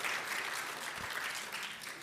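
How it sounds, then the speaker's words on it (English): Audience applause for the Accenture sponsorship at a career panel session, a steady wash of many hands clapping at moderate level throughout. "let's give a round of applause to Accenture"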